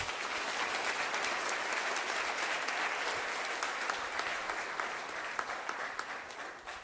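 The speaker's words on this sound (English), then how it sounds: "let's give her another round of applause" A gathered audience applauding a student athlete at a high school college signing, a sustained, even round of many hands clapping that stays strong throughout and tapers slightly at the end.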